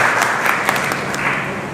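Loud, dense applause from the audience at an Urdu e-content workshop in Pune welcomes Dr. Sunil Magar, a brief continuous burst of clapping with no talk over it.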